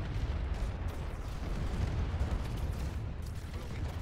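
Turrets and ships trade fire in an AI War 2 space battle, a dense continuous barrage of booming and crackling weapon bursts with a heavy low rumble, loud and steady throughout with no voices.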